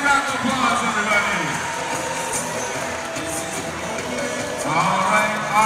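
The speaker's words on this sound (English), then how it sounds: "Let's give her a big round of applause, everybody." A basketball crowd at a men's game between SFU and UBC roars and cheers steadily, applauding a shooting competitor, with a loud continuous wash of voices and clapping throughout.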